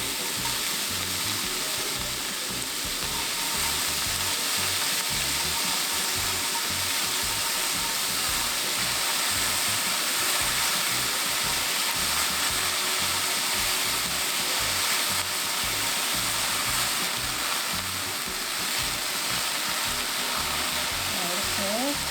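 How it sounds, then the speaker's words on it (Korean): Chopped onion and green onion stir-fry in a spoonful of hot oil, giving a constant close sizzle and crackle with occasional stirring scrapes throughout. "기름 1스푼 넣고요. 양파하고 파기를 먼저 넣어서 섞을게요."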